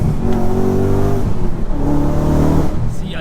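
An Audi RS4 B7 with a V8 engine and manual gearbox revs hard from inside the cabin, a loud, continuous rising engine note that dips briefly between pulls before climbing again.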